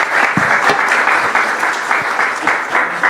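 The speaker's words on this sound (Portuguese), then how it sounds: "Senhoras e senhores, vamos aplaudir essas duas feras aqui." Audience at an investment talk event applauds two speakers, a loud, close, continuous round of clapping with some sharp individual claps standing out across three seconds.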